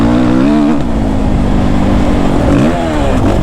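A Suzuki RM-Z 450 dirt bike engine, loud and close while riding, holding a steady harsh drone in one gear with small rises and dips as the clutch is feathered.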